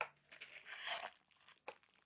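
Crinkling and tearing of a small plastic powder sachet from an instant fava bean cup, close and quiet, a rustling tear followed by a few short crinkles.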